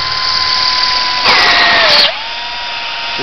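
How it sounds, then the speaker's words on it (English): A high-pitched power drill whines steadily, its pitch dipping and surging as it bites into a metal LPG/CNG gas intake nozzle, then easing back to a steady spin. "You'll hear where the drill stops on different points"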